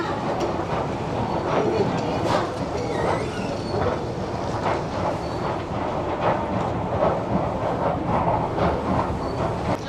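The Sonnagari Express rumbles steadily along the line from Jodhpur to Jaisalmer, a continuous rattling roar heard from inside the train at moderate volume, with faint voices in the background.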